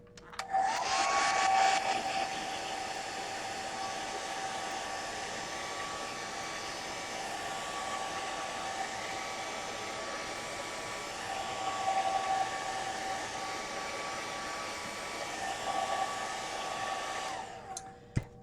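A hair dryer drying paint on a gelli plate print runs as a steady, close whirring roar with a faint high whine, starting with a surge and cutting off near the end, no voices heard.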